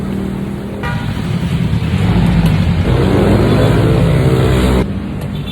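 Steady road rumble of traffic from inside a moving car on a busy street, a continuous low drone that swells slightly midway with a brief horn-like tone, then eases near the end; no talking.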